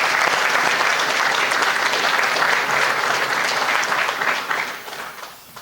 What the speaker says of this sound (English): give him a special round of applause